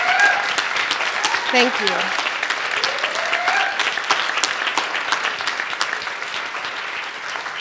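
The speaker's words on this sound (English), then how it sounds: "Can we give our guests one more round of applause?" A lecture audience of a couple of hundred people claps in sustained, dense applause that holds steady throughout, with a voice briefly speaking over the start.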